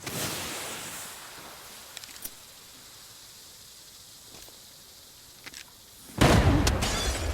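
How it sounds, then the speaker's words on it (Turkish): A grenade goes off in the realistic shooter Arena Breakout Infinite: a quiet stretch with a few faint clicks, then a loud, abrupt broadband burst with a hissing, crackling tail near the end. "Bomba geliyor."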